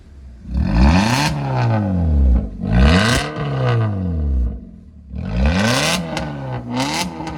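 A black car fitted with a loud valvetronic exhaust revs hard in close range, four repeated throttle blips rising and falling in pitch with crackling roar between them, heard alone without talking.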